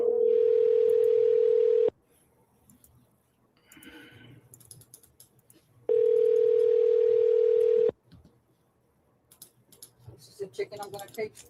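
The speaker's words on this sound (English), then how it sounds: "You guys can hear that phone ring" An outgoing telephone call rings back twice, each a steady two-second tone separated by a four-second pause, with faint keyboard typing and clicks in between.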